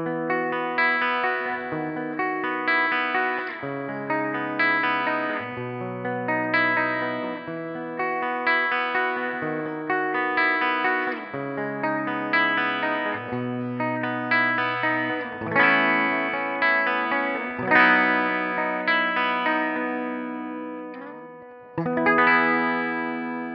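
A Gibson SG Standard electric guitar on the bridge pickup plays a steady run of bright, biting chords and notes with a chorus-like shimmer, alone and with no talking.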